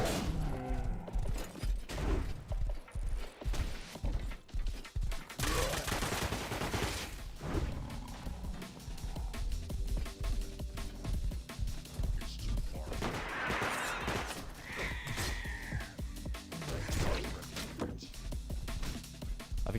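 Sustained gunfire in a crafting-focused survival video game, rapid overlapping bursts and shots that continue nearly nonstop for about twenty seconds, loud and dense with voices and game sounds mixed in.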